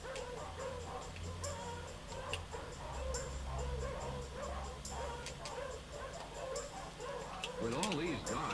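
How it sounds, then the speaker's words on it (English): Many dogs in cages bark, yip and whimper in a video game, a busy overlapping chorus with ticking sounds running throughout and a voice speaking over part of it. "It sounds as though there are many dogs nearby."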